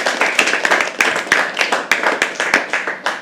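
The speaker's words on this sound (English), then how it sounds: "Can you please have a round of applause?" Applause from a small poetry open-mic audience, a brief burst of clapping close by with distinct individual claps rather than a dense roar.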